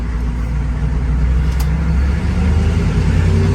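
A truck with a manual gearbox and no tachometer drives along, its engine droning loud and steady with rising and falling pitch as it revs and shifts, no voices over it.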